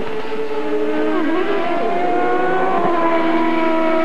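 An IndyCar engine at the 1995 Road America Grand Prix fires up after stalling, its tone climbing and shifting as it revs, with track noise and other race cars close behind.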